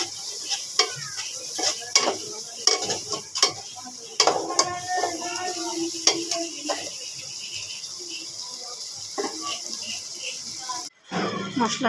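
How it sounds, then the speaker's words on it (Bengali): Chili powder, salt and turmeric being sautéed in a pan for a beef curry, with low sizzling and repeated sharp scrapes and clanks of a spatula against the pan, close, with a voice speaking over it. "মরিচ গুঁড়ো লবণ সব মশলাগুলো একটু কষিয়ে নেব মশলাটা"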